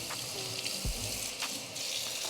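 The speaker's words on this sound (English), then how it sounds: "If you want to rinse it, I can rinse it." A measuring cup is rinsed under a running kitchen tap while a fruit and yoghurt smoothie is made, giving a steady close hiss of water with a brief splash partway through.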